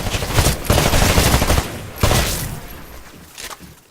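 Rapid gunfire hits targets on a shooting range in the video game Titanfall, with dense bursts of shots, a pause and a renewed volley that trails off, loud and close.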